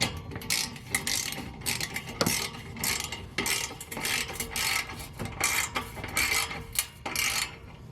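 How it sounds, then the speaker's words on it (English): Ratchet tightening a bolt on a car in a driveway, a series of short rhythmic clicking bursts repeating steadily at close range, with no talk. "Let's tighten this one back up and then get to the other side."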